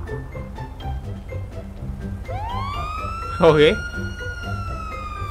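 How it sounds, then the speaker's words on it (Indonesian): A police siren in GTA rises into a steady wail partway through, over the game's background sound, with a voice speaking briefly and a short loud burst near the middle. "Police siren, siren."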